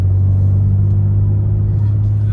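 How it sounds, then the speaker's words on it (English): A 2023 BMW M4's inline-six engine hums low and steady at low RPM while driving in fifth gear, a constant near drone from inside the cabin with no pauses. "hear that light hum of the inline six and the low RPMs"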